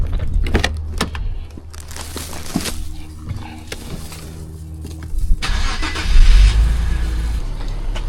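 A car's engine cranks and catches after a few clicks and clunks of setup work, then idles with a low steady rumble, close by and fairly loud, with no talking over it.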